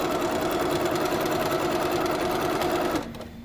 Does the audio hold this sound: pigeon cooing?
no